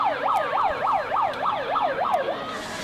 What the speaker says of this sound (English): That is the full-time siren.